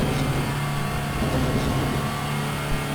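A loud, sustained 2011 Audi R18 TDI Ultra racing car engine in the game RaceRoom Racing Experience drones at steady pitch with a constant low hum, close and unbroken, no voices.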